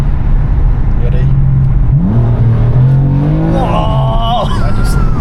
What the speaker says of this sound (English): you guys ready to see a pull in first gear with DCT?